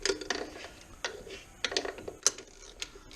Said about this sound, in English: That was a torque wrench.